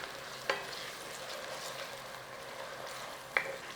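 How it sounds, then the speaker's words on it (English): Spice paste for chicken ghee roast cooking over a low, steady flame in a pan, a faint soft sizzle with two brief scraping knocks of stirring, with no voices. "So just bring it in and cook out that paste."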